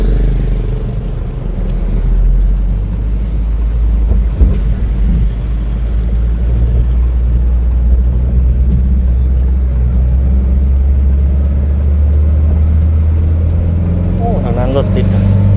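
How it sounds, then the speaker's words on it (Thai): Traffic jam on a street in Vientiane, Laos, during the opening of the That Luang festival: a steady low rumble of idling and slowly moving cars and motorbikes, continuous and close, with a person talking over it. "รถติด"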